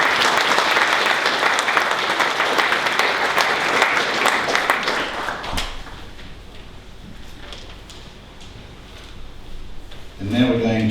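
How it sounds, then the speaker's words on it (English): Audience at a senior school presentation day ceremony gives a loud round of applause, dense clapping for about five seconds before it drops away, followed by a quiet room with scattered small noises and a voice starting near the end. "Can I ask us to give these guys all a round of applause?"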